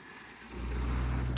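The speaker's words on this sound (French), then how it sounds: "Il y a une auto qui s'en vient, je vais attendre, la laisser passer avant de traverser." Car approaching at a large intersection, its engine rumble swelling in from quiet to a close, steady roar over the second half.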